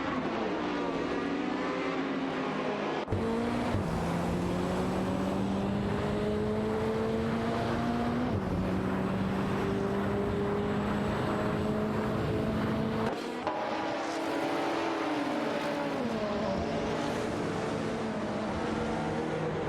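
Race cars in a racing video game, including an Oldsmobile Cutlass, drone steadily around the track with engine pitch climbing and dropping as gears shift, a continuous loud whine with abrupt cuts between cars.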